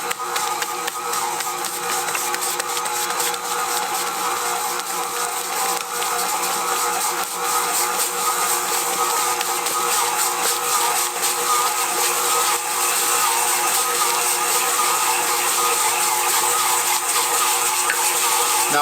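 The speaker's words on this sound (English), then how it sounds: "Now we're going to let it mix for about 10 minutes or so." A stand mixer with a dough hook kneading pizza dough for a wood-burning oven, a steady, continuous motor whir and hum that holds at an even level throughout, with no talking.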